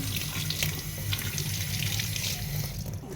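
Tap water runs steadily into a sink while strawberries are washed, a continuous close splashing stream with no talking.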